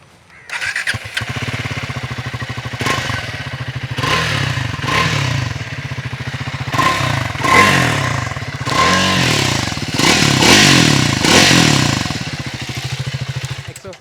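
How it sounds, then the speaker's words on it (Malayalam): A Triumph Scrambler 400X single-cylinder motorcycle idles with a steady, close, thumping exhaust note, then revs in several bursts and settles back to idle. "എക്സോസ്റ്റ് ഒന്ന് കേൾപ്പിക്കാം."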